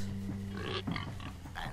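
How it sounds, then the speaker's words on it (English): Pigs oink and grunt in the Minecraft: Story Mode game, several short snorts scattered over steady game background music at moderate level. "No, not you, got pigs! Hey, all pigs but Ruben, shut up!"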